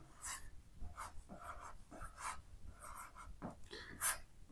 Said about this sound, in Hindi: सबसे पहले हम लोग यहाँ लिखेंगे जरीब।